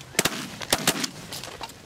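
Shotguns fire during a goose hunt, several sharp blasts going off in quick succession, loud and close, followed by fainter scattered reports in the open air.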